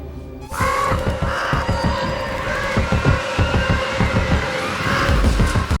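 Crows cawing loudly and repeatedly in a dense, continuous chorus from a scene in the TV show Wednesday, with harsh overlapping calls and flapping throughout.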